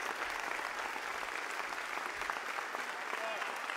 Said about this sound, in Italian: Fatevi voi l'applauso per essere qua